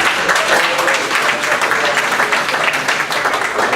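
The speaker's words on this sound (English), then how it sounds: "can we have one more great round of applause for those nominations?" Sustained, loud audience applause fills a Lions Club officer installation ceremony, a dense even wash of many hands clapping with no break.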